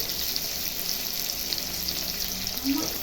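Potatoes and pointed gourd sizzle and fry in oil in a pan for a rohu fish curry, a steady bright crackling hiss that continues throughout, with a brief scrape of stirring near the end.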